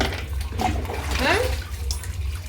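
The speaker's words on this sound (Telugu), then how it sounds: "చలికి చల్లగా ఉంది, వెచ్చగా వేడి నీళ్ళు పడుతుంటే ఎలా ఉంది సిబ్బి?" Warm water pours and splashes steadily over a dog during a bath, a continuous wet rush close by with a voice talking over it.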